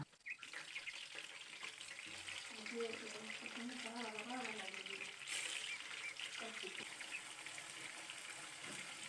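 Chicken dropped into a pan of ginger garlic paste over low heat, sizzling with a steady broadband hiss, while a voice speaks briefly over the frying.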